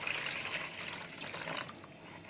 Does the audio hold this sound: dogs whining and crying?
no